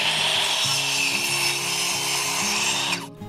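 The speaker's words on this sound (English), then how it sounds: "I transfer this angle to my miter saw" A miter saw slices through timber pergola rafters at an angle, a loud, sustained grinding whine with a steady pitch that runs nearly three seconds and then winds down; no talking.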